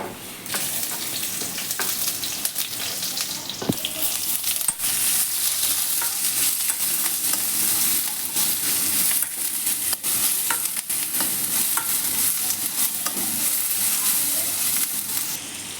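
Dried chilies, onion and curry leaves go into hot oil for a Mandya-style upsaaru tempering, giving a steady bright sizzle with occasional stirring clinks throughout.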